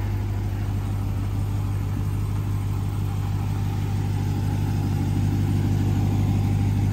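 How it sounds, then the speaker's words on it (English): A Ram 1500 TRX pickup with the supercharged 6.2-litre Hellcat V8 runs at a steady idle, a deep, even rumble with a constant hum that holds for several seconds without talk. "supercharged, the Hellcat engine, and it moves pretty good"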